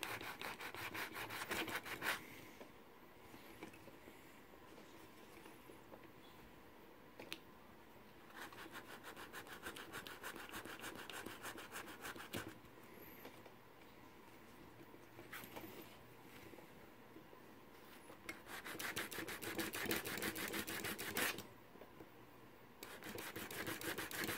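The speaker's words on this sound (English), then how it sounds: "I'll break out the big sanding block I have to do the wheels." Big sanding block rubbed back and forth over the wheels of a Lionel O gauge train, a continuous rasping scrape in steady strokes, close and moderately loud, with brief pauses.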